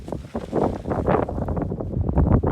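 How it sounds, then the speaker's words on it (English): Steady wind buffets the microphone in gusts, a rough, rumbling roar outdoors with rustling underneath. "as you can see, it's pretty windy"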